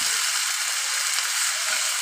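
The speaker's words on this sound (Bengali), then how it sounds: "টমেটো কুচি দিয়ে ভালো করে ভেজে নিব" Chopped tomatoes frying in a pan alongside chopped potatoes, giving a steady, close, broadband sizzle that holds evenly throughout with no voices.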